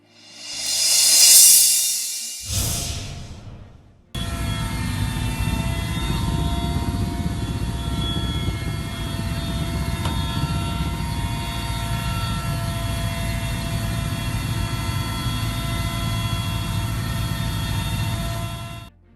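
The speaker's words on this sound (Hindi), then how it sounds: "वीडियो में हेलीकॉप्टर के जरिए पानी गिराकर जंगल की आग बुझाने की कोशिश हो रही है।" A helicopter fighting a forest fire in Alwar district, Rajasthan, drones loudly and steadily with a throbbing rotor and engine whine, after a brief rush of wind-like noise at the start.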